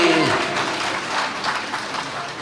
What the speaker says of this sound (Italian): E che è un applauso questo?